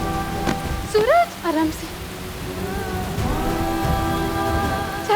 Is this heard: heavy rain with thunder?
yes